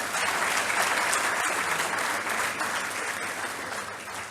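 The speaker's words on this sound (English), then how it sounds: "Can we please have a round of applause for them?" An audience applauds guests at a Union Budget discussion event, a sustained, fairly loud round of clapping that stays steady and tapers gently toward the end.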